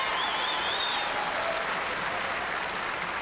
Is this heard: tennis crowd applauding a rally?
yes